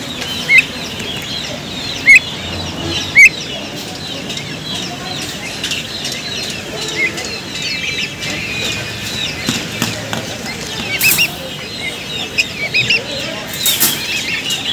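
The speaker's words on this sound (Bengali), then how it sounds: "জি দেখুন টার্কি মুরগির বাচ্চাগুলো।" Turkey chicks on a poultry farm make scattered, faint high peeps amid rustling, with a few sharp knocks and occasional background noise.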